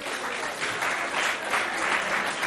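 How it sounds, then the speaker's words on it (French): An audience at a school event at the Béadi centre claps steadily, a dense, even patter of applause that fills the short moment without speech. "On applaudit pour le centre Béadi qui nous accueille aussi"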